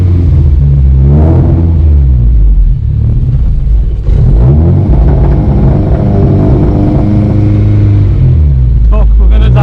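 Engine of a homemade car rumbles loud and close as it drives off and revs, a dense low drone with rising and falling pitch sweeps, and voices occasionally shout over it.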